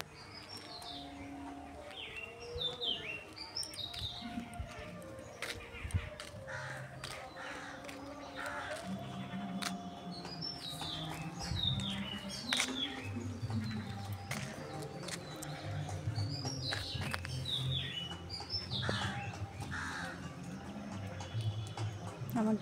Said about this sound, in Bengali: অনেক পাখি এসে, কবুতর আসে, কবুতর এসে চাল খায়